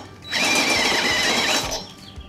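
A drill bores a hole in a wooden table top for a carriage bolt. It gives a single close, loud whirring burst of about one and a half seconds and is quiet before and after.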